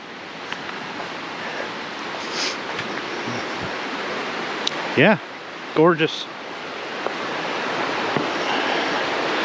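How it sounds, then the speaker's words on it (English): Steady broadband rush of a creek flowing beneath large hemlock trees near a bridge on the Appalachian Trail in Georgia, constant and close, with brief speech and a couple of short chirp-like sounds over it. "There's the creek flowing down."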